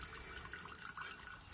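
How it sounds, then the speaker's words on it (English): Gasoline draining from the gas tank of a Troy-Bilt XP generator, a steady close liquid trickle and splatter without pause, no talk. "right now I'm just sort of draining down the gas tank"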